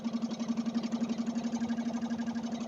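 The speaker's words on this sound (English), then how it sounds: "at the moment, it's idling nicely, the mixture's about where I want it" A racing lawnmower engine idles steadily with a quick, even pulsing beat, heard close and alone with no talking.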